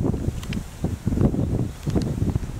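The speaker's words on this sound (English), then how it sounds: "Look how that grass blows down there with the wind" Wind gusting across grassy hillside slopes, uneven rushing bursts and microphone buffeting that rise and fall over a few seconds.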